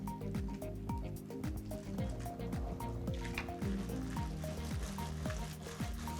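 Soft, wet rhythmic stirring and sloshing as kimchi seasoning with garlic, plum extract and chili powder is mixed by hand for young radish kimchi. The sound is quiet and continuous, with no talk.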